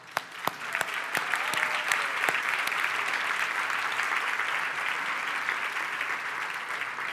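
Audience applause honoring founding members of a women's leadership council, a few opening claps swelling into sustained, even clapping from a room of people.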